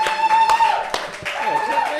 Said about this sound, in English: clap that shit